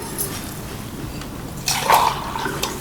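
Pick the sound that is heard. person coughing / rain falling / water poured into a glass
water poured into a glass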